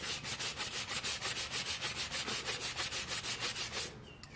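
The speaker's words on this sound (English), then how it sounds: "And this is using a 400 grit." A cup is sanded by hand with 400 grit sandpaper in quick, even rhythmic strokes, a loud, close scratchy rasp repeating about five times a second for nearly four seconds before stopping.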